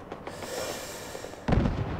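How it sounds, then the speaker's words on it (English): Distant booming Fallout 4 gunfire rumbles faintly through a noisy background, followed by a louder, closer blast near the end. "I hear more gunshots."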